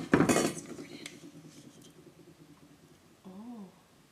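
Brownie batter is scraped from a bowl into a baking pan, starting with a short, loud clatter of a utensil against metal, followed by soft scraping under quiet voices.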